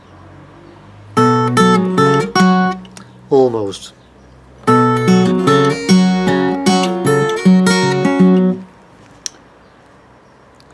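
Acoustic blues guitar playing part of the Ragged and Dirty Blues verse, close and fairly loud: bursts of plucked notes and strummed chords with short pauses between phrases. A voice says a single word near the end.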